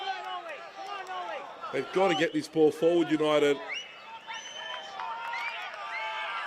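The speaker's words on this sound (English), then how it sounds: "You can hear the whistles as well from the crowd" Fans at a Bayswater City v Sydney United Australian Championship football match whistle for full time, scattered shrill rising and falling whistles from the stands, with a commentator talking loudly over them.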